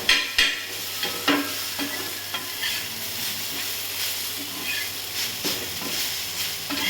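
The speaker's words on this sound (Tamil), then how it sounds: "அதுக்கப்புறம் நல்லா ஃப்ரை பண்ணணும்." Podi idli frying in a pan with ghee, mint and spice powder: a steady close sizzle with irregular stirring scrapes and clicks throughout.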